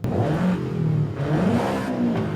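A Toyota GR86 with a 2.4 litre engine in the Forza Horizon 5 racing game revs steadily for a couple of seconds, its loud, continuous engine tone rising and falling with no voices.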